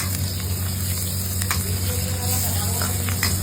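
Capsicum, onion and bell pepper sautéing in hot oil in a wok, giving a steady, even sizzle throughout with a low constant hum and a few faint scrapes on top.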